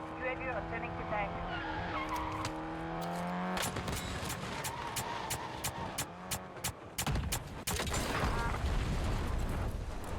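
Vehicle engine and tire noise from a Call of Duty Warzone match, a steady droning motor that shifts pitch, with sharp bursts of gunfire crackling over it and a player talking throughout.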